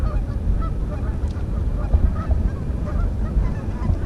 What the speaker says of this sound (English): there's got to be a couple hundred geese in total.